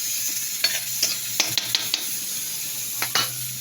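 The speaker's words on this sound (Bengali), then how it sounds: "মাছের মাথাগুলোকে দিয়ে দিয়েছি, মশলায় তেল ভরে দিয়েছিলাম।" Hilsa fish heads frying in spiced oil crackle with a steady sizzle, broken by a series of close metallic scrapes and taps of a spatula stirring against the pan, with no speech.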